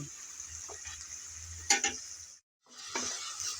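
Shrimp frying in a pan, a steady bright sizzle with a few clinks of stirring, close, dropping out briefly before the sizzling resumes.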